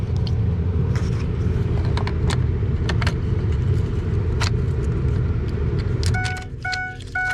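A 2004 Ford F350 truck, fitted with a new ignition switch, runs with a steady low engine rumble and a few faint clicks, then a series of repeated warning chime tones sounds near the end as the rumble eases.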